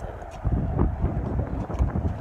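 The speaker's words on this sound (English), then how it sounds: "Slightly windy" Wind buffets the microphone during a helicopter flight over London, a continuous, uneven low rumble with gusty swells and no speech.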